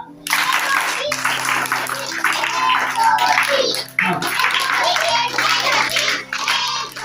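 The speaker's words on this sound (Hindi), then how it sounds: "शुरुआत हम 3 तालियों से करेंगे।" A class of children at the Zilla Parishad Urdu school in Gulshan Nagar, Mohol, claps together in a dense, sustained burst lasting several seconds. A brief dip breaks it midway, and faint voices mix in.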